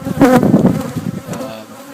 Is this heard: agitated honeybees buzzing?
yes